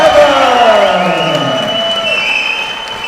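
A boxing crowd cheers and applauds the losing fighter after a British super flyweight bout, a dense, sustained roar of clapping and shouting that slowly fades, with a voice talking over it.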